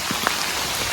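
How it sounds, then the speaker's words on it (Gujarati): Heavy rain falls steadily in a brief burst, a dense broadband hiss of drops on surfaces with a few sharper drop hits, fairly close and with no voices. "ખતરનાક વરસાદ પડવાનું ચાલુ થયો છે"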